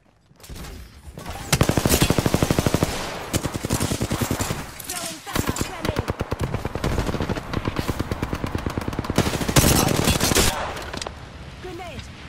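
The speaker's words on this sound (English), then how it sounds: "The enemies are shooting at me." Rapid automatic gunfire in the battle royale game Apex Legends, dense bursts of enemy shots rattling almost continuously from about 1.5 seconds onward, loud and close, with brief gaps between volleys.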